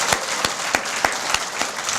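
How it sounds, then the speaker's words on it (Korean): Audience at a Democratic United Party launch event clapping in a strong, even rhythmic beat, loud and close, with the crowd's applause filling the short stretch alone. "뜨거운 박수를 보내드립니다."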